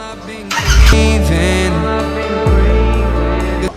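A Royal Enfield Interceptor 650 BS6 with a Moto Torque full-system bolt-on exhaust idles with a deep, throaty exhaust burble, blipped into two loud revs that settle back to a steady rumble.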